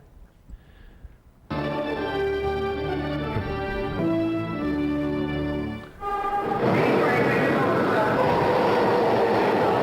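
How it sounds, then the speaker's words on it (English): A New York City subway train pulls into a station, a loud sustained roar with shifting tonal whines from the wheels and motors that swells into broadband rushing noise toward the end. "The train was coming in like that."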